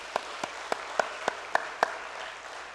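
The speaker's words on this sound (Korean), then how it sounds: "하나님께 모든 영광의 박수 올려드리겠습니다" A church congregation at a Saturday dawn revival service claps seven times, with the claps evenly spaced and fairly close, rising slightly in force over a low murmuring room background.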